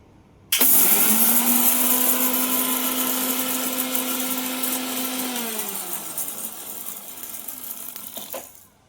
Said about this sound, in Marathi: हे थंड होऊ द्यायचं आणि थंड झाल्यावर त्याची पावडर करून घ्यायची मिक्सरमध्ये.